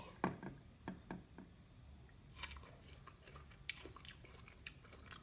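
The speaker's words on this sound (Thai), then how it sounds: "ฟังจากผมเคี้ยวนะครับ" Crisp chewing of a Japanese Haruki melon: several close crunchy bites in the first seconds, then quieter, wetter chewing with occasional crackles in a quiet room.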